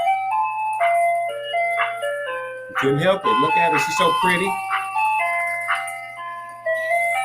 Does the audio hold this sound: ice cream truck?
yes